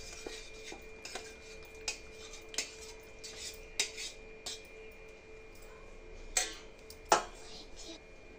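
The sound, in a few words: spoon mixing sabja seeds and jelly into custard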